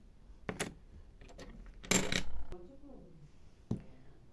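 Coins, including five-lira pieces and a token, drop into a holder: several sharp metallic clinks and a jingling rattle close by, spaced out over a few seconds, with faint room noise between.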